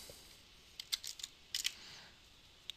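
A computer keyboard is typed on in quiet, with a few light, quick key clicks in two short bursts and a single tap near the end.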